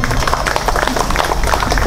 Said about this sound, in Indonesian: Tepuk tangan untuk Om Jen.